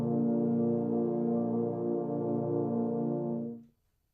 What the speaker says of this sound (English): when the euphoniums play a chord together, they sound just like this.